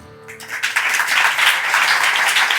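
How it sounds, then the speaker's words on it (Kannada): A burst of applause from a crowd, starting suddenly and swelling into steady, dense clapping that continues to the end. "ಒಮ್ಮೆ ಚಪ್ಪಾಳೆ."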